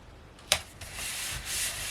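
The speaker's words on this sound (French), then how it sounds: "Je reprends mon grand plioir et je fais adhérer." Paper being rubbed down with a large bone folder so it sticks onto double-sided tape, for a handmade U-bound album: one sharp contact at the start, then soft sustained scraping strokes, close and quiet.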